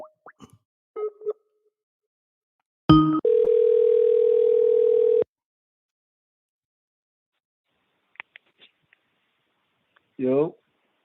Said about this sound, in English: Let me call Devin.